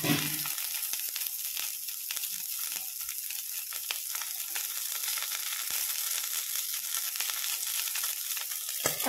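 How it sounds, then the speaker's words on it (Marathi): Eggplant sizzles as it fries in a hot kadhai for a smoky bharit, a steady crackling hiss that runs for the whole stretch with no voices over it. "कढई गरम झालेली आहे, हे वांगे मी याच्यात टाकते."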